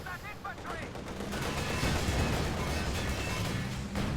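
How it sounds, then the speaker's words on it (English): Machine gun bursts of incendiary rounds in the real-time strategy game Company of Heroes 2, a dense, sustained rattle of gunfire with overlapping battle noise, mixed with a voice at the start. "MG with the incendiary rounds."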